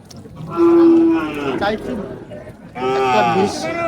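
Sahiwal calves, five to six months old, moo loudly and close at a cattle market, two drawn-out calls, with people talking nearby.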